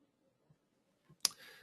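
A single sharp mouse click confirming a payment transaction in an online business dashboard, heard close and alone after a few faint soft taps in a quiet room.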